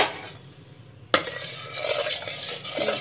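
Jaggery being stirred into a rice paste for milk pua: after a second of near quiet, a spoon starts scraping and sloshing through the thick mixture in a pot, continuous and close.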